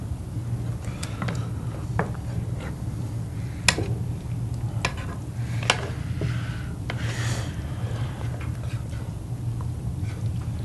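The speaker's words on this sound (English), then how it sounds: "Mix together the pot." A spoon stirs a taco pie mixture of beans and corn in a pot, making irregular clicks and scrapes against a low, steady background hum, with no voices.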